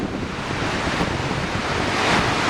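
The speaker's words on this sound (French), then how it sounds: "Les chutes, elles font que 12 mètres de haut." Godafoss waterfall in Iceland, about 12 metres high, roars as a steady, loud broadband rush of falling water mixed with wind buffeting the microphone, continuous and unbroken throughout.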